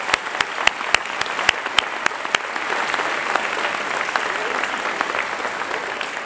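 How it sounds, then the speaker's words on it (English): Audience applause for students honored at a 2017 academic and leadership awards convocation, opening with a few distinct loud claps, then settling into a steady, moderately loud round of clapping from a seated crowd. "One more round of applause for all of our students who were recognized today."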